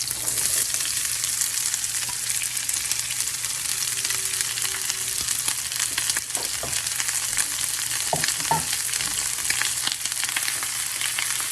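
Two large onions fry in coconut oil in a pan with a steady, loud sizzle throughout, broken by a few faint clinks and stirring knocks.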